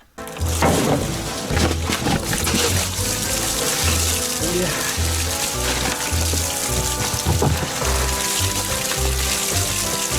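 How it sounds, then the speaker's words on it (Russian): Diesel fuel drains from a Hanomag 44D loader in a steady, close trickling pour that runs almost the whole time, with a person talking over it. "Так, сейчас сольем солярку."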